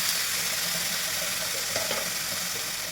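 Kachki fish and vegetables fry in hot oil with a continuous, even crackling sizzle and a few faint clicks, close and steady throughout.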